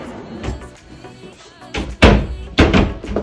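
A pull-out shoe drawer with a push-to-open mechanism is pressed and slides, giving several soft thunks and clunks of cabinet wood, close by and spaced unevenly, with faint background noise.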